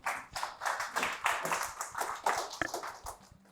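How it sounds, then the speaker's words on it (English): A small conference audience claps for a speaker as he comes up, a short burst of quick, fairly quiet clapping that fades out after a few seconds. "Give him a round of applause."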